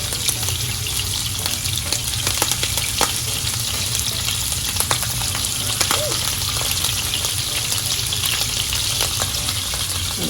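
Shrimp and scallops sizzle and fry in a hot pan on a seafood grill, a steady loud crackling hiss with scattered pops and spatters that stays up close throughout, no talking.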